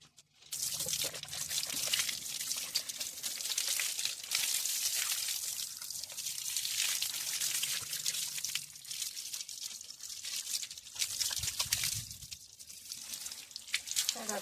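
Steady running water rinses soap off a dog during a bath, a continuous close hiss and splash that barely varies in level across the whole stretch, with no talking.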